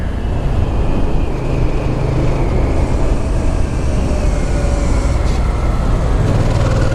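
A 2007 Ducati Monster 695 motorcycle engine rumbling steadily while riding, a continuous low thumpy drone mixed with road and wind noise, close and loud without speech.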